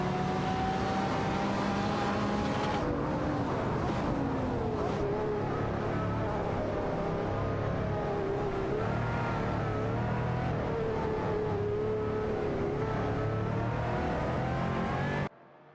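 Race cars, including a Ferrari and a Porsche 718 Cayman, drive in a video game race, their engines droning and revving steadily with shifting pitch, then cutting off abruptly at the end.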